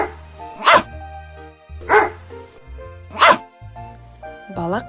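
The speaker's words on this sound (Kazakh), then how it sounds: "Қалай үреді екен?" A dog barks three times at an even pace, loud and close, over a soft musical backdrop from a children's animal cartoon, followed by a short higher yip at the end.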